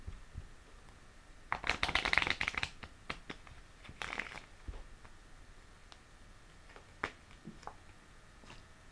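Cards being shuffled for a tarot-style card reading, a quiet riffling flurry followed by scattered soft taps and flicks of cards being handled, close and without speech.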